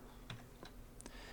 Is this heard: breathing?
no